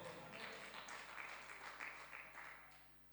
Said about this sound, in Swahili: Pige Bwana Yesu makofi.